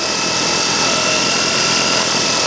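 Small 3D-printed drone motors spin steadily and loud, giving a continuous high-pitched whine with a broadband whoosh that holds even throughout.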